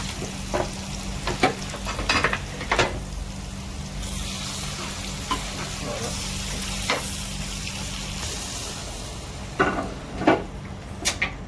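Hot tempering poured into a spinach and lentil curry (palak paruppu keerai) gives a steady sizzle, with scattered stirring and utensil taps over a constant low background hum.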